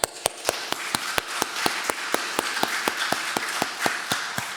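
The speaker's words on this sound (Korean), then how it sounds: "하나님께 박수" Church congregation clapping in unison at a worship service, a brisk, even run of sharp claps, about four per second, close and steady with a reverberant wash behind them.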